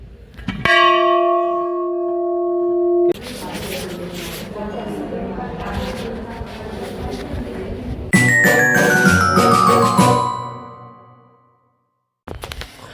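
A large temple bell is struck and rings out with a long, shimmering tone, then a busy crowd murmurs before another loud clang rings and slowly fades.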